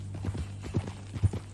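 Horse hooves clip-clop at a walk in Red Dead Redemption 2, several uneven, close hoof falls over a low steady background hum, with no talk.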